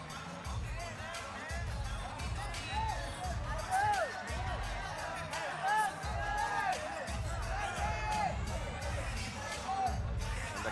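A boxing crowd at the Cebu City Sports Center cheers and surges around the ring, a dense roar of shouts and whoops under loud, continuous commentary.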